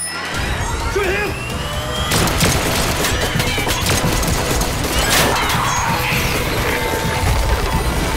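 Loud gunfire and crashing impacts in a TV action shootout with a Chinese triad, dense bursts and sharp cracks filling the scene, with shouted voices in the mix.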